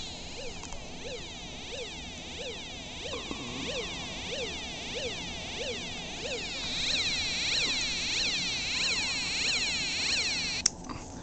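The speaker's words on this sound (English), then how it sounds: "there's a water detection alarm going off, and then the alarm is a lot louder because I just added salt to the water" A homemade electrical water detection alarm with salt added to the water emits a continuous, repeating warbling electronic tone, sweeping up and down in a regular pulse and growing somewhat louder partway through.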